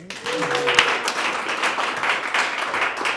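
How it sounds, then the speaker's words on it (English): Audience applause at a Startup Grind Chicago fintech talk, a steady dense wash of many hands clapping that fills the whole stretch at moderate loudness, with a brief voice-like tone near the start. "Round of applause, everybody."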